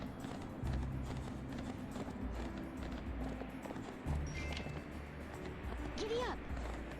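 Horse hooves clip-clop in the Barbie Horse Adventures: Wild Horse Rescue video game, a repeated walking rhythm of soft thuds that runs beneath game music and occasional effects.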